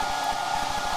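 The Alexanderson alternator transmitter at Grimeton Radio Station runs with a loud, steady mechanical whine and a constant roar, heard up close with no talking.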